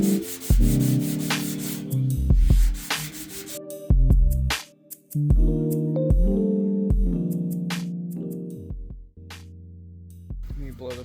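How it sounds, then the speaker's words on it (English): Body filler on a dented car panel being sanded by hand in long steady back-and-forth strokes, a close, loud rasping scrub with brief pauses between passes. "And I'm going to sand this side."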